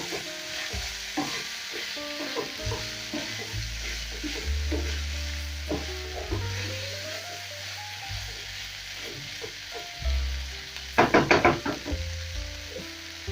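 A spoon stirs chicken liver frying in a pan with crushed seasoning cubes and spices, giving repeated scraping strokes over a soft, steady sizzle, with a burst of sharp clatter near the end.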